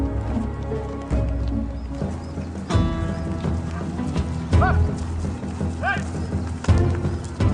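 Hooves clip-clop in an uneven rhythm close by, with a horse's whinny breaking through twice.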